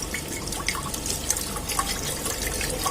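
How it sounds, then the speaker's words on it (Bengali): Hot water poured into a pot of cooking ghugni makes a continuous close splashing and trickling, with scattered drips and no talking. "এবার একটু গরম জল বসিয়ে দিচ্ছি"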